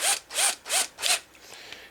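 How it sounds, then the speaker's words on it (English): A drill bit goes into a hand drill: four quick rhythmic ratcheting, clicking turns of the chuck, bright and close, then a quieter tail. "go ahead and remove the drill bit from the package and go ahead and install it onto our drill"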